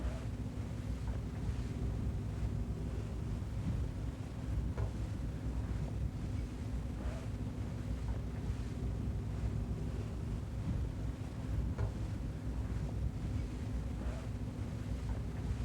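A powerboat heads out of the harbor through the channel toward a moving boat, its engine a low steady drone beneath constant wind buffeting and the wash of waves, loud and unbroken throughout.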